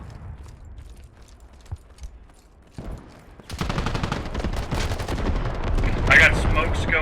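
Incoming mortar fire in the video game Squad, with a few faint thuds at first and then a dense, loud barrage of blasts and gunfire rolling on without a break.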